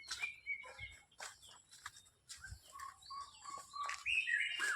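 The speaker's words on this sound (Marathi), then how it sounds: "तिकडे आवाज करतात पक्षी भारीच होत आवाज भारी येत आवाज" Several birds chirp and call in quick, overlapping bursts, fairly close, with no voices, near a river during rain.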